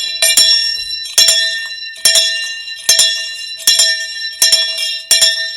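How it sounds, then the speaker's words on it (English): A handheld bell is rung in seven sharp, bright strikes at an even pace of roughly one per second, loud and close, each ring decaying before the next, with no talk over it. "But today, make I ring the bell for Buhari."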